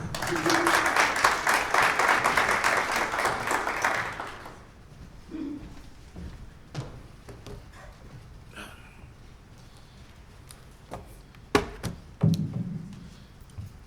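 A burst of church congregation applause for about four seconds, dense clapping that stops abruptly, followed by a quieter room with scattered knocks and thumps.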